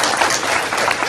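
Audience clapping at a graduation ceremony, a brief, close burst of dense applause.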